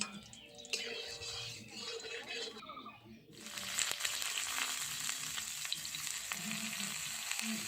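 Steamed cabbage rolls made with chicken fry in mustard oil in a kadai. A quieter opening gives way to a loud, dense, close sizzle that carries on steadily to the end.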